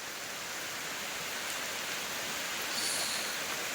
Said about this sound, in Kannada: ನೋಡಿ ಮಳೆ,